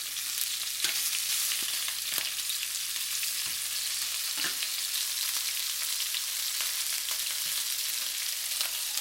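Shell-on shrimp fry in a pan for a ginger, onion and garlic sauce, giving a steady close sizzle with scattered sharp pops and light clinks throughout, and no talking.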